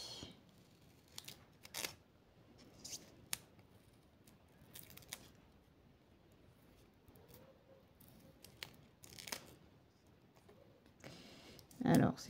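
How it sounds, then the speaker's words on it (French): Scissors snipping through sticky material for a photo frame, scattered soft crisp cuts and small clicks spread over time at low level, with a louder rustle at the end. "c'est pas forcément évident à découper parce que ça colle au ciseau"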